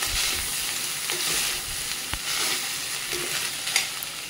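Fried rice with onions gets stirred in a hot pan: a constant sizzle under scraping spatula strokes and occasional knocks against the pan, close and wordless.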